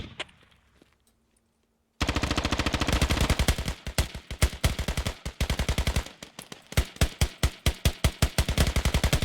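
Sustained automatic rifle fire in the military shooter Squad starts after two quiet seconds, a dense run of rapid, close shots, steady at first and then breaking into short bursts toward the end.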